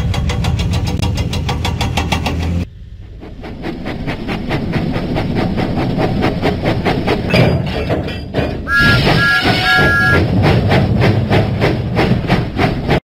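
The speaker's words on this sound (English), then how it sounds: "Thomas pumped his pistons and puffed out of the docks." Thomas, a cartoon steam tank engine in the Thomas and Friends Lift Load & Haul video game, chugs out of the docks with loud, steady, rhythmic puffing and mechanical clanking that runs continuously, with a brief high tone near the end and no talk.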